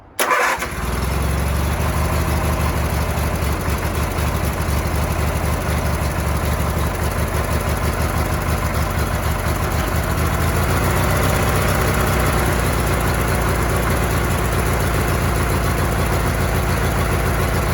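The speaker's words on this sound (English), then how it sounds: "right now, I got this set at 1750 the idle" A 1985 Roper lawn tractor engine cranks and catches at the start, then settles into a steady, loud idle around 1750 rpm with a constant throbbing rumble close to the microphone, and no talking over it.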